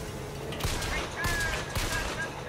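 Gunfire aimed at a machine in BioShock Infinite, three loud bursts of shots at roughly even intervals over a low game background hum.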